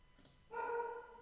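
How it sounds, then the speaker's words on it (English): A dog gives a single faint, short bark or yelp indoors, distant and quiet. "There's a dog here."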